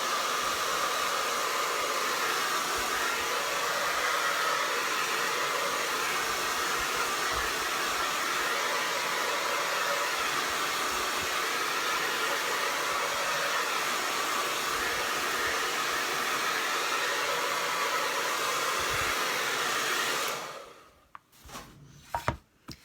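A hair dryer blows steadily on wet pink paint, a constant loud whoosh for about twenty seconds before cutting off, followed by a few faint handling clicks.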